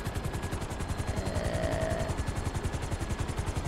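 A helicopter in GTA 5 flies low and sets down at an airfield, its steady rhythmic rotor chop dense and close throughout, with a turbine whine running over it and no voices.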